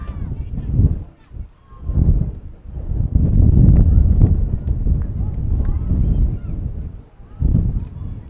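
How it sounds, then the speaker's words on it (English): Strong gusty wind buffets the microphone at an outdoor girls' soccer game, heavy low rumbling bursts rising and falling in waves, with a voice talking in between. "It's really windy out here as the window in front of me has blown open."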